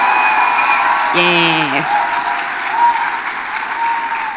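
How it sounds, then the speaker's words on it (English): An audience at a FIRST LEGO League competition final applauds and cheers for the volunteers, a dense sustained clapping throughout, with a brief voice calling out over it. "Big cheer for the volunteers."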